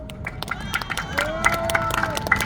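Crowd clapping and cheering at an outdoor joint election campaign rally in Cheongju, with scattered sharp claps and a sustained tone from the sound system under the noise.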